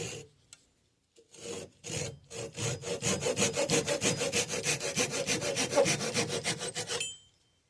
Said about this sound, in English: So I'm going to start on this line and then just cut through.